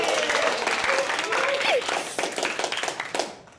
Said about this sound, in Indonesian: Boleh tepuk tangan untuk mamaku